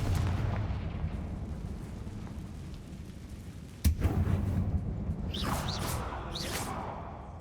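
A Confringo fire spell blasts off in the Hogwarts Legacy video game: one sharp, loud crack followed by a rushing burst, then fainter whooshing effects over a steady game ambience.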